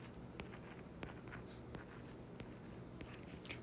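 A pen or pencil scratches out math notes in soft, faint strokes with small taps, steady and close over a low background hiss, with no talking.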